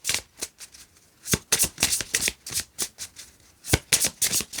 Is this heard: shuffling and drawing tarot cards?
yes